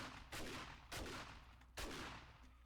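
Three heavy, booming shotgun blasts spaced about half a second to a second apart, each with a long rumbling decay, fired in the video game 7 Days to Die, with no talking.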